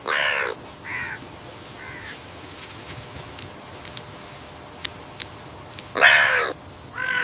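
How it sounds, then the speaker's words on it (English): Crows gathered at a fish carcass give loud harsh caws, a burst at the start and another near the end with a few softer calls between, over quiet outdoor background with faint taps. "The crows have found a fish carcass"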